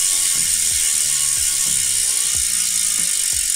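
The freewheel hub of a Retrospec aero bicycle wheel set ratchets with a fast, steady stream of sharp mechanical clicks as the wheel spins. It is loud and close, with no talking.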